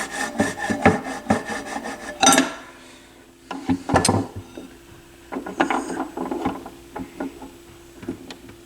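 Intermittent scraping and rubbing of a mechanical part on a Pioneer PL-30 turntable that won't shut off at the end of a record, heard in several short bursts and scrapes separated by quiet gaps, close up with no talk.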